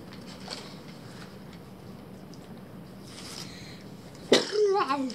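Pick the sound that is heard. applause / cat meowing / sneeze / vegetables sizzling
sneeze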